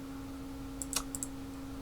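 A few quick, light computer keyboard key clicks during a browser game session, soft and close, over a steady electrical hum.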